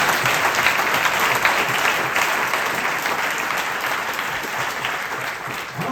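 Audience applause at a swearing-in ceremony for a county executive, a dense, sustained clapping from a large crowd that fills the room, steady throughout and tapering only slightly at the end.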